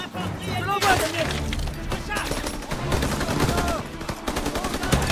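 Call of Duty WWII battle on Hill 493 in November 1944: sniper shots crack amid dense, continuous gunfire and impacts, with soldiers' voices shouting over the din.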